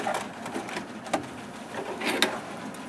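A sewing machine runs a straight stitch along the edge of fabric for a bookmark, a steady close mechanical whir with light intermittent clicks and no voice.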